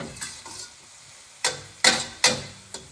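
A spoon scrapes and stirs Greek spanakopita feta and spinach filling in a pan with a soft sizzle underneath, in about five quick, separate strokes with pauses between them.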